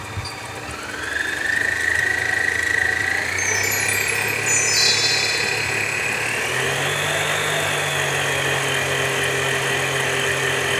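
Electric hand mixer beating sugar and butter for a cheesecake, starting on a low speed and then stepping up, a steady close motor whir running the whole time with a slight rise in pitch partway through.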